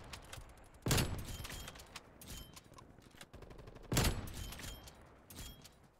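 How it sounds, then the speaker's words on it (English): Gunfire in a first-person shooter game: two loud bursts of automatic fire roughly three seconds apart, with scattered quieter shots and battlefield noise between them. "I'm being shot from too many different directions."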